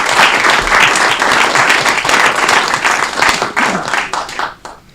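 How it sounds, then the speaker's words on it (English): Audience applause fills a city council meeting in a sustained burst of dense clapping, loud and close throughout, tapering off and thinning out in the final second. "Let's give the Aurora Fire Museum a round of applause."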